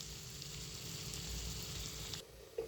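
Tomatoes fry in a pan for a curry with a steady, soft, hissing sizzle that holds even, then dips briefly near the end with a small clink.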